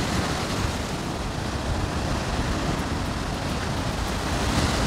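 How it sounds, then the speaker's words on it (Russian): Large sea waves break on the shore at Zelenogradsk in a loud, continuous roar of surf and wind with no talking. "Валы, смотрите, какие огромные"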